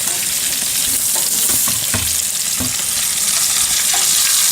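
Shrimp frying in butter in a very hot pan crackle in a loud, dense sizzle, with scattered scrapes and taps from a utensil moving them about.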